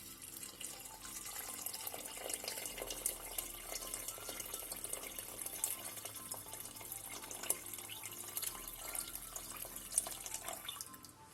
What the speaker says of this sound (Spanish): Y ya le voy a echar el agua.